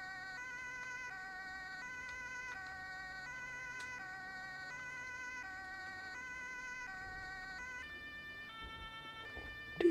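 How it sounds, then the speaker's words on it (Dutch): Police car siren in the video game Emergency Hamburg, a steady, moderately loud stepped electronic wail that repeats in a regular cycle for the whole stretch, with no talking over it. "Dit is de chille sirene."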